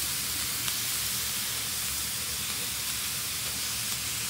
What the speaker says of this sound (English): It'll just create steam, which will just help to heat up the rest of the sauerkraut.